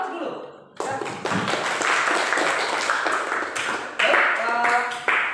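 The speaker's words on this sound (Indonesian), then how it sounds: "Aplaus dulu." Audience applause for a classroom group presentation, a dense burst of many hands clapping that starts after a brief quiet moment and continues steadily for several seconds with a renewed swell near the end.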